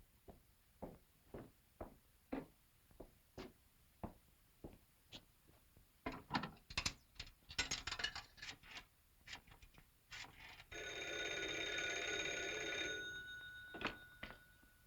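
A telephone is dialed in a 1943 film scene. A run of sharp, evenly spaced clicks comes first, then a denser cluster of clicks. A ringing bell tone follows, and two final clicks close it.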